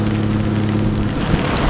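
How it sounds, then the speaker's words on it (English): Steady rain falls outdoors as a dense, even hiss, with a low rumble running underneath throughout. "someone has decided it's a good idea to have rain here."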